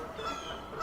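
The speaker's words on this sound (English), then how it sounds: "That's the Canada Goose, by the way." A Canada goose honks nearby outdoors, a short nasal call standing out over a faint background murmur.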